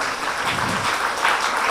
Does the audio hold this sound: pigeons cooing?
no